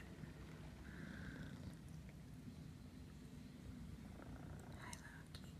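Cat purring softly and steadily close by on a rainy day, a low rumbling texture that runs throughout, faint overall with a few small higher sounds near the end.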